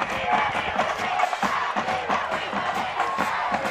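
Crowd noise at a high school football game, a steady roar of cheering and shouting voices from the stands with a band sound mixed in, loud and continuous throughout.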